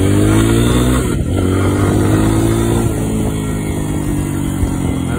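Lifan KPX 250 fuel-injected enduro motorcycle accelerates loud and close, its engine note climbing in pitch through a gear change with a steady buzzing drone and wind noise.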